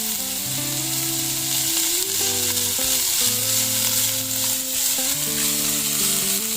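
Shredded cabbage fries in a pan for chapathi kothu with a steady, dense sizzle, loud and close, under a layer of soft background music and no talking.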